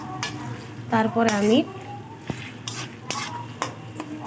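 Tomatoes fry and get stirred in a pan for chicken curry, with scraping stirs and soft sizzle under a voice as she talks.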